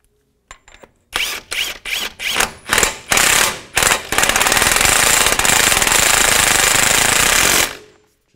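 An impact-style power tool works an axle nut on a Ford Explorer front hub, first in short rapid rattling bursts, then in one long continuous hammering run before stopping, loud and close.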